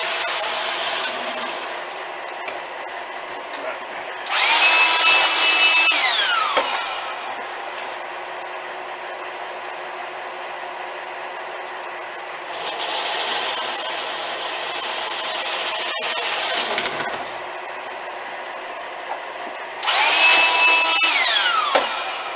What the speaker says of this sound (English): I do have the depth stop set on the lathe on the drill press, so it only ticks the surface of the sacrificial piece.